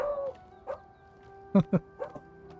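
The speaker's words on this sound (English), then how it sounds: "And the beagle sounds off again." A beagle in the video game The Elder Scrolls IV: Oblivion Remastered barks a few times in short, sharp bursts over a steady tonal hum, moderately close, with a quieter yip near the end.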